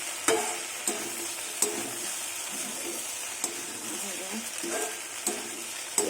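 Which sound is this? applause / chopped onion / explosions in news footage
chopped onion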